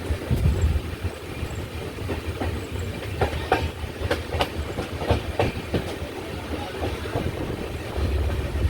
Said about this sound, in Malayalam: ട്രെയിൻ കൊച്ചുവേളി സ്റ്റേഷനിലോട്ട് എടുത്തുകൊണ്ടിരിക്കുകയാണ്.